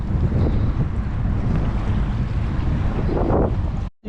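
Strong wind buffets the microphone in a steady, roaring rush, loud and close, with a kayak and sea water in the background.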